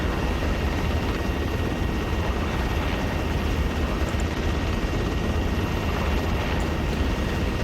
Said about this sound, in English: put the aircraft in a fixed hover, an automatic hover